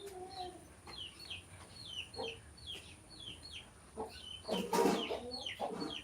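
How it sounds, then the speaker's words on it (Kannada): Chickens cluck and chirp repeatedly at a rural home, short rhythmic calls at moderate distance, with a brief louder flurry of activity near the end. "ಮತ್ತೆ ಕೋಳಿ ಎಲ್ಲ ಉಂಟು ನೋಡಿ"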